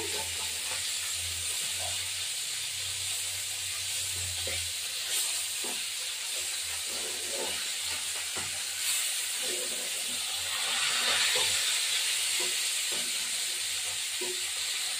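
A steady, loud sizzling hiss of small rohu fish frying in hot oil continues throughout, with occasional pops and faint clatter.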